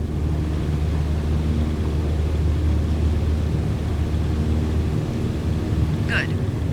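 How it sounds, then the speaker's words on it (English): A small airplane engine roars at full power through the takeoff roll in Microsoft Flight Simulator, a steady loud drone throughout with a brief high chirp near the end. "Apply full power and I'll walk you through the takeoff as we go."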